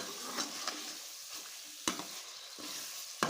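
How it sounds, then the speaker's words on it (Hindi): Potatoes and peas frying in a pan for aloo matar sabzi, a quiet steady sizzle with a few sharp stirring clicks from a spoon against the pan. "आलू और मटर की जो है ना भुनाई करनी है अच्छे तरीके से।"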